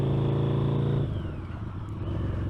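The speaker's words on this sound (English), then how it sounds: "You can hear the pops and crackles." Custom Harley-Davidson V-Rod Night Rod with a loud aftermarket exhaust idles with a steady deep throb, then the engine note drops off and breaks into a burst of close, irregular pops and crackles.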